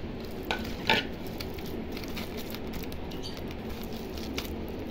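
Crushed chili with fried onion and garlic sizzles softly in a pan, a steady low crackle with a couple of brief clinks of a utensil against the pan.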